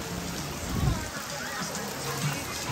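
Heavy rain pours down steadily on an outing to a cable car ride, a dense, even patter of drops heard from close by at moderate volume without pause.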